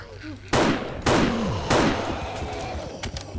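Zombie cops firing in 7 Days to Die Alpha 12 during a Day 21 horde: three loud, sharp gunshots about half a second apart, each followed by a ringing, decaying echo.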